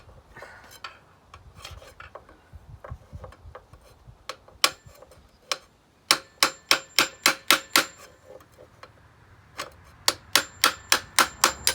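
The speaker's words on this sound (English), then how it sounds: "I'm going to use my flathead and I'm going to use a hammer." A hammer taps a flathead screwdriver against the fan clutch on a 2008 Mercedes Dodge Sprinter NCV3, sharp metallic clicks at first scattered, then fast rhythmic bursts of strikes with short pauses between.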